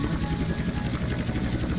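A helicopter comes in to land in the video game GTA San Andreas. Its rotor makes a loud, steady whirring thrum throughout, with no pauses.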